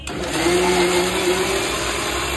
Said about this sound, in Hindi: ये देखो हम मिक्सी से पीस रहे।